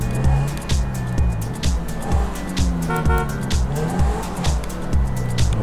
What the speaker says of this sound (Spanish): Ah, qué arranque tiene este coche.